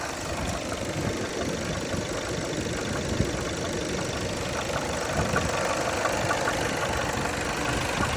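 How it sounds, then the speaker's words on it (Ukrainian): A Skoda Superb 2.0 TDI diesel engine idles steadily with a low, knocking rumble, close and continuous throughout, no voices. "Послухайте, як працює двигун."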